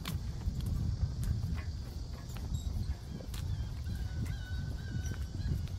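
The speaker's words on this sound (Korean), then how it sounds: "갈매기 소리" Faint seagull cries call out a few times in the distance over a constant low rumble of wind or open-air noise, at a seaside park in Gunsan, South Korea.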